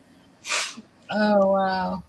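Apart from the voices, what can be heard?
sneeze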